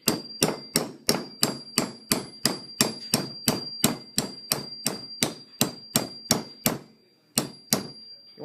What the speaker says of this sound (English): Now, that's what the hammer is for. So we get it right here, and then we commence hitting.